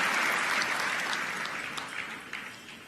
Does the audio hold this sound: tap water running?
no